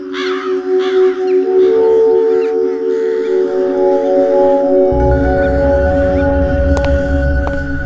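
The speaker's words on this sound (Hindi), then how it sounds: "ये कौवे यहाँ पर ऐसे ही रहते हैं क्या? इनके कांव कांव ने मेरा सिर दुखा दिया है।" Crows cawing repeatedly in harsh rhythmic calls, loud and close at first, then a low rumble and tonal hum take over with occasional sharp sounds, no talking.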